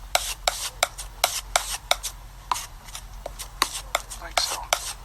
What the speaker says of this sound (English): For the shadows, we'll take the blue and the white, mix it together.